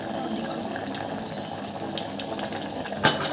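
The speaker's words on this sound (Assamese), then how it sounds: "এতিয়া উতলিবলৈ ধৰিলে।" Water coming to a boil in a pot for khichdi, a steady close bubbling hiss that runs through the whole stretch, ending with a brief sharper splash or clink.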